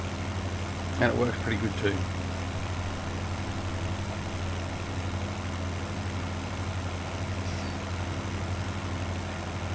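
A tractor from the Modern Classics DLC idles in Farming Simulator 17 with a steady low engine drone that holds throughout, while someone speaks briefly over it near the start.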